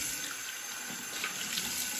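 Tap water runs steadily into a bathroom sink while lather is rinsed off the face after a shave, a loud, continuous hiss of flowing water with no voices.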